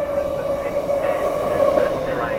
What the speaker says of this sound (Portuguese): Desculpa, ainda não é meu trem.